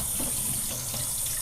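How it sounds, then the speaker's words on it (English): A tap runs steadily, filling with water being warmed for a small dog's bath in a plastic box, a constant close hiss and splash of flowing water with no talk. "so now I'm just warming up my water, and Boogie's going to get a bath this morning"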